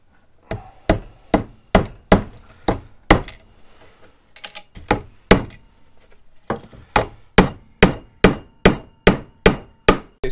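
Small nail driven into wood with a hammer while building a DIY jaw jacker automatic hook setter; sharp, close, regular blows in two fast bursts of about six strikes each, a short pause, then another steady run of roughly eleven strikes.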